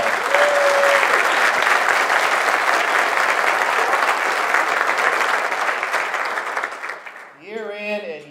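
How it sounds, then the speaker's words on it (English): Conference audience applauding award winners, a sustained burst of dense crowd clapping lasting about seven seconds before fading, followed by a speaker beginning to talk. "So let's give them a round of applause."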